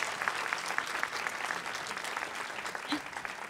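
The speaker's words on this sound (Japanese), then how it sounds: "皆さんもう一度大きな拍手をお願いいたします" A cinema audience at a stage greeting for the film Amanogawa applauds the cast and staff, a steady wash of many hands clapping throughout, fairly close and even in level.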